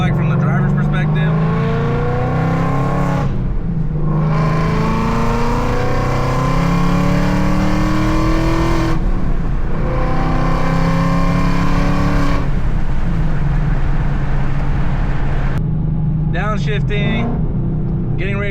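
A car engine rises and falls in pitch through downshifts and a hard acceleration pull, heard steadily from the cabin with a loud continuous drone and brief gaps between gear changes.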